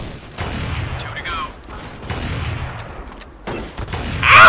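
Glock shots go off in a Counter-Strike: Source match, a few sharp cracks and short volleys spaced across the moment, fairly loud with in-game ambience.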